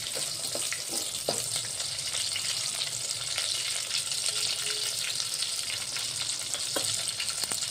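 Sliced onion sizzling steadily in a hot pan for a vegetable curry, a continuous close frying hiss with occasional stirring clicks and scrapes, no voices.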